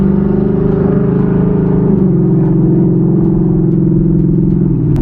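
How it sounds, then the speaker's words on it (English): A 2024 Ford Mustang GT engine and exhaust heard from inside the cabin, a loud, steady low rumble with droning tones that shift slightly in pitch, continuous and unbroken by voices. "All I gotta say is this car sounds amazing."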